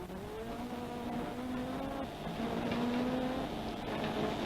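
A little Sunbeam rally car on a stage of the 1982 Cork 20 Rally, its engine note rising and falling through gear changes as it drives on, with a steady background rumble.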